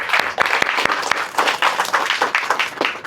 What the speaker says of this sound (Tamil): கைதட்டுங்க எல்லாரும்.